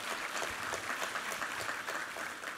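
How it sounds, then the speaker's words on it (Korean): A church congregation at a Sunday worship service claps together, a steady, even wash of many hands applauding throughout at moderate distance, with no voices rising above it. "우리 하나님께 감사와 영광의 박수 올려드리겠습니다"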